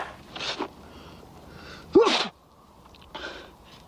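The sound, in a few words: sneeze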